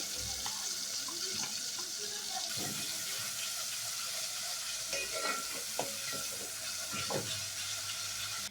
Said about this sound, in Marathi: एका टोकामध्ये मी हिरवं वाटण चांगलं तेलामध्ये भाजून घेणार आहे